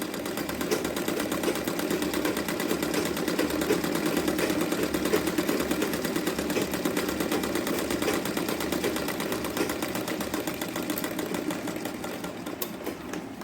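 A sewing machine runs continuously up close, a fast, even mechanical whirr of stitching along a sleeve lining edge, steady for the whole stretch without talk.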